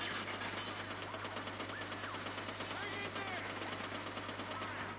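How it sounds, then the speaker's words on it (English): Rapid turret machine gun fire in the video game Uncharted: Golden Abyss, a continuous quiet rattling stream of shots with game effects and faint voices underneath. "I never used the turret before."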